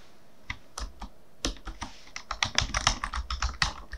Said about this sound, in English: Now the same keyboard is typing different characters.